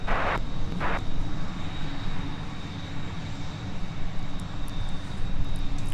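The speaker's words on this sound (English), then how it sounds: "That is one heavy 737, and we should expect a 12 right departure." A heavy Delta Boeing 737 jet departs runway 12 right at Minneapolis–St. Paul airport, a steady broad engine roar heard from a distance that holds at a constant level throughout.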